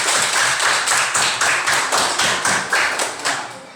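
A classroom of students clapping hands in unison, a loud rhythmic series of about a dozen evenly spaced group claps close by, fading slightly at the end.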